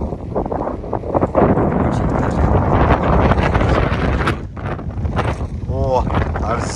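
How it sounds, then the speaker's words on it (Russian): Heavy wind rumbles against the microphone in rough gusts while a person talks over it. "ветер, конечно, сильный"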